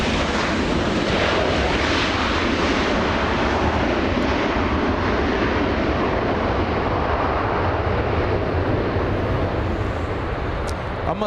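A Delta airliner at Los Angeles International Airport gives off a loud, steady broadband jet roar that holds continuously and close, with no break from start to finish.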